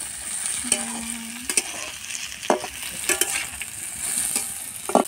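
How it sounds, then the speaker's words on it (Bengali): Beans and carrots fry in oil with a continuous sizzle. A spatula scrapes and clatters against the pan in irregular strokes, close and moderately loud, with no talking. "সিম দিয়ে গাজরটা ওই দুটো দিয়ে একসঙ্গে ভেজে নিলাম"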